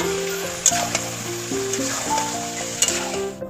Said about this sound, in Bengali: ভালো করে আমি মাংসটা কষিয়ে দেবো